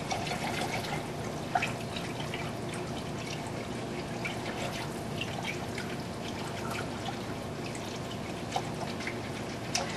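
Vegetables boil in a pot of cheese soup with ham, a quiet steady bubbling and trickling with a few small pops, heard alone without talk.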